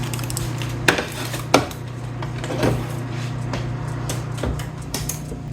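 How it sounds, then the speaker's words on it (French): A lid comes off a bread pot with a few sharp metallic clanks and scrapes, close and fairly loud, over a steady low hum. "c'est le moment où on enlève le couvercle et on continue avec la cuisson pour 15 minutes"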